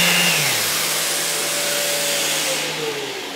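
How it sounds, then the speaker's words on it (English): A vacuum drawing air through a homemade vacuum clamp box for woodworking runs with a loud, steady rushing whine that dips slightly in pitch and settles over a few seconds. "The vacuum goes on."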